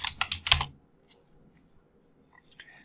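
Several quick bursts of keystrokes on a computer keyboard, clicking close and clear, then a pause with a few scattered light taps after it, typing a web search.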